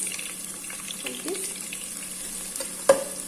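Garlic frying and browning in a pan, heard as a soft, steady sizzle with a faint stirring scrape and one brief sharper clink near the end, fairly quiet with no talking.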